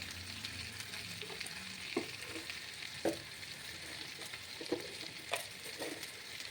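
Cumin powder and chili powder fry in a pan, a soft continuous sizzle punctuated by several spoon scrapes and taps as the spices are stirred, fairly quiet with no talking.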